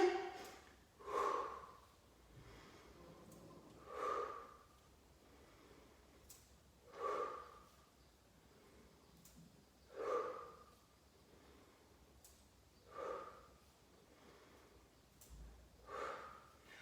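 Repeated sharp inhalations during a French upper-body strength and cardio training session, about six breaths spaced a few seconds apart, close and fairly loud with no talk between them.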